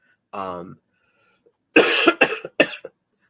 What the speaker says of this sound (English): like this cough that I have